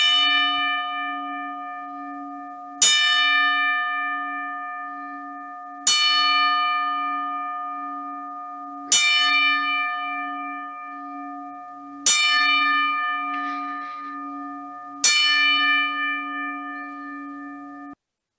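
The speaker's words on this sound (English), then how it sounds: "The bells are ringing." Church bells ring in slow, evenly spaced strikes, six loud clangs about three seconds apart, each leaving a long sustained hum as it fades.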